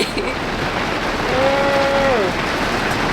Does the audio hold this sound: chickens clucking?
no